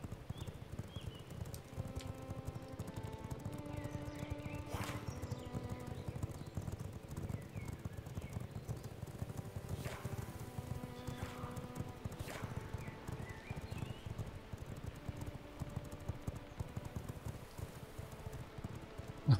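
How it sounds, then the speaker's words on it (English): Horse hooves clip-clop in the video game V Rising, a steady walking rhythm that runs throughout at moderate level over a dense bed of background game music and ambience, with no talk. "I found Leafing's horse."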